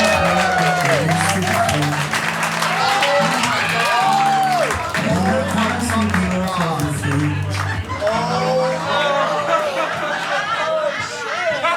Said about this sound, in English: Clap it up right now for Avery, Dauer, everybody!